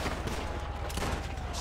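Rapid gunfire in Grand Theft Auto V on PS5, a loud dense stream of shots that continues without a break for the whole moment.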